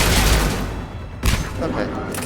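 Bursts of rapid gunfire from the video game Mass Effect 3: Legendary Edition crackle loudly and almost continuously, with a heavier burst around the middle, while a player talks over the shooting.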